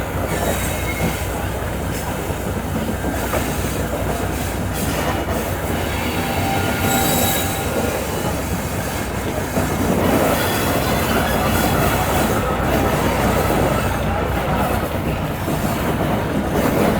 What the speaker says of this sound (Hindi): एक बार रुकने के बाद ट्रेन हमारे निकल गई है दोबारा से